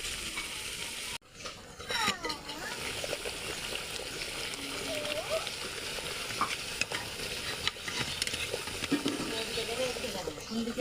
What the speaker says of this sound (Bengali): বড়া ভাজাটা, পেঁয়াজ ভাজাটা আর মুচমুচে হবে সুন্দর।